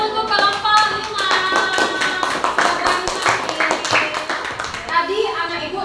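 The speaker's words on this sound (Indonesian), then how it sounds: "Tepuk tangan untuk kelompok 5" A classroom of children claps for a group of classmates, with quick, uneven hand claps running throughout amid children's voices and chatter.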